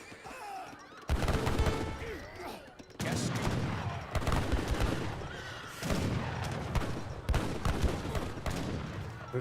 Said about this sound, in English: Janissaries are firing away as well